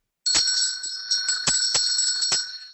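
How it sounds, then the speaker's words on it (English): A bell with a bright, sustained metallic ring, struck about five times at uneven intervals to end a timed writing exercise. It sounds close and loud, with no talking. "Listen to the bell."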